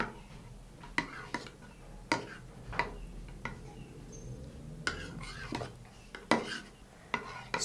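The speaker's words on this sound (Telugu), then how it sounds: "ఇప్పుడు ఇందులో మనం సబ్జా గింజలు, లెమన్ జ్యూస్ అండ్ తేనె, ఈ 3 ఇంగ్రీడియంట్స్ని మనం బాగా మిక్స్ చేసుకోవాలి." Sabja seeds, lemon juice and honey stirred together with a spoon in a bowl, giving intermittent clinks and scrapes at an irregular rhythm, close and moderately loud against quiet background hum.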